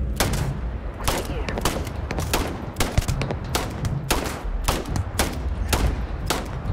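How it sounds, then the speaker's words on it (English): Rapid bursts of gunfire in Starfield on Very Hard difficulty, sharp repeated shots cracking every half second or so in a steady rhythm, loud and close, with a voice briefly heard underneath. "I'm getting some shots off"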